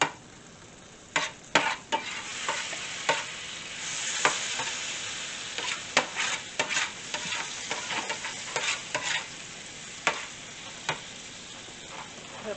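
Philly cheesesteak meat frying in a very hot pan, a constant bright sizzle broken by repeated sharp scrapes and clicks from stirring, with no talking.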